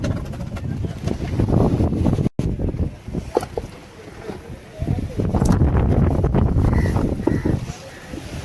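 Strong, gusty storm wind at a fishing harbour buffets the microphone in a loud, continuous roar that swells and eases in waves.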